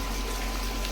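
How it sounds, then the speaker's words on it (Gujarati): Water gushes steadily out of a deep tunnel inside a farm well, a continuous loud rushing wash with no voices over it. "જો ભોયરામાંથી પાણી આવી રહ્યું છે।"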